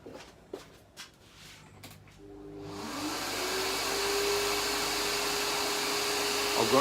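A shop vacuum starts up partway through and runs steadily as a loud, continuous broadband whoosh with a low hum, following a few knocks and handling sounds.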